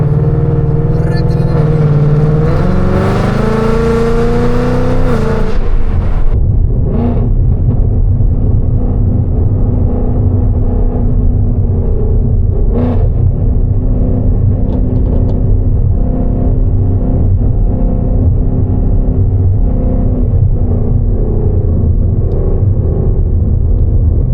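A catless Mustang 5.0 or Camaro ZL1 V8 revs loudly up close at the start, then settles into a deep, rumbling idle with occasional blips, while people talk over it.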